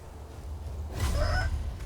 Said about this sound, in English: And then more birds.